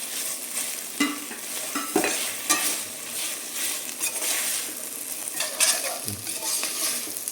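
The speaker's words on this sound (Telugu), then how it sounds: "రిమైనింగ్ వెజ్జెస్ కూడా వేసుకొని ఫ్రై చేసుకోవాలి" Vegetables frying in a pan for paneer biryani, with a steady sizzle and repeated scraping stirs that clatter against the pan at uneven intervals.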